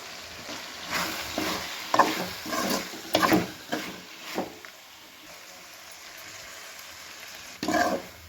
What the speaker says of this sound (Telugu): ఇప్పుడు మనం పొడి వేసుకుని మసాలా వేయాలి చికెన్ ఫ్రైకి.